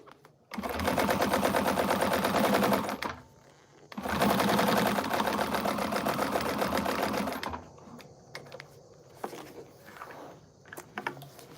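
A sewing machine top stitches a quilted bag in two loud, steady bursts of rapid mechanical whirring separated by a short pause, followed by quieter clicks and handling sounds.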